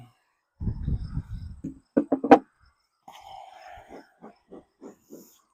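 Honeybees hum during a hive inspection of a colony that may be preparing to swarm. A steady buzzing drone breaks into short pulsing bursts, heard close up after some earlier rustling and knocking.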